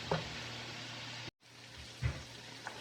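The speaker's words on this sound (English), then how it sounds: "I'm gonna add in my tomatoes, and I'm gonna let that also come to cook and fry them up" Tomatoes frying with peppers in a pan give a constant close sizzle, broken by a brief silent cut partway through and a few soft stirring clatters afterward.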